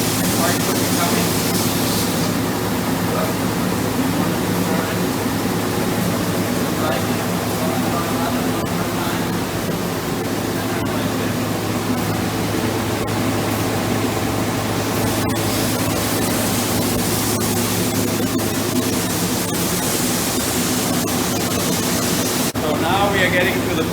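A DM1100C deburring machine working stainless steel and aluminum parts gives a loud, steady, dense industrial roar with a constant low hum, unbroken throughout and close by.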